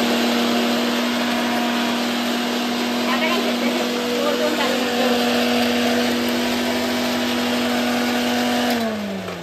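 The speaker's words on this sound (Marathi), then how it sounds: "आपली फक्त मिक्सरला लावून चटणी झाली" A mixer grinder whirring steadily as it blends peeled ingredients into chutney for momos, a loud, constant motor drone lasting several seconds before winding down at the end.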